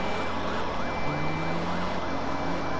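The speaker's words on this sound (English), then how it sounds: "I have 5 police cars in pursuit" Police car sirens wail in the Need for Speed 2015 video game during a chase with several pursuing cruisers, overlapping rising-and-falling tones that run steadily and loud over a rumbling engine, with no talking.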